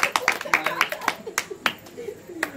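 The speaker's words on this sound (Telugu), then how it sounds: "Okay okay okay clap clap." Several sharp hand claps in quick succession, then a few slower scattered ones, close by in a lively indoor group setting with voices talking around them.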